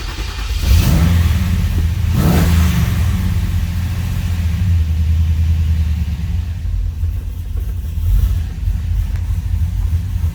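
A 1974 Chevelle Malibu with a swapped LS V8 rumbles loudly up close, its engine revving briefly twice early on and then settling into a deep, slightly uneven idle that carries on to the end.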